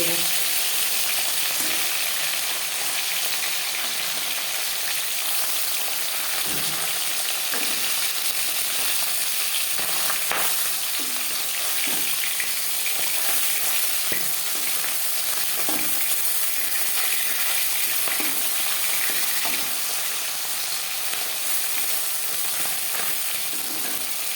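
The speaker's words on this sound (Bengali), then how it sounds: "অল্প অল্প করে মাছ দিতে হবে মাছ এক পিস ভাজা হয়ে গেছে" Tilapia fish pieces fry in oil in a pan, a loud, continuous sizzle with scattered clicks and light scraping throughout, no voices over it.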